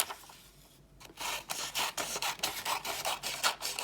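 Scissors cutting paper strips for an octopus craft: a steady run of close, soft rasping snips about every quarter second after a brief pause, quiet and with no talking.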